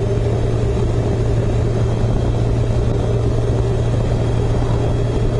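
A 1997 Kawasaki Concours touring motorcycle with hard side bags riding along a road, heard as a steady, close engine drone and rumble mixed with constant road and wind noise, with no voices.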